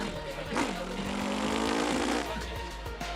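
A racing driver imitates a revving car engine with his voice, one sustained rising and falling buzzing whine lasting a couple of seconds, close and fairly loud over background chatter from other people.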